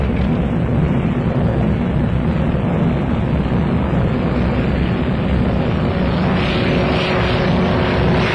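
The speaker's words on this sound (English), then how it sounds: "He uses a blue hand flag owing to the noise of the aircraft engine." A Supermarine Walrus seaplane's propeller engine drones loudly and steadily throughout, a dense rumbling roar that swells slightly near the end.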